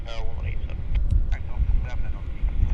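A Q400 turboprop airliner at Vancouver Airport drones steadily in the distance under wind noise, while a person talks over it close to the microphone.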